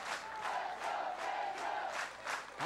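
A baseball stadium crowd at a college regional game sends up a sustained roar with rhythmic swells of cheering and chanting, heard from a distance and fairly faint.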